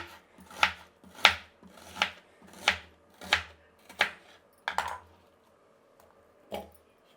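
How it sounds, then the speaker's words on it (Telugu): A knife chops onion on a board, about eight sharp, evenly spaced strokes close by, then a pause and one final chop. "ఫస్ట్ ఎర్రగడ్డ కట్ చేసుకుందాము"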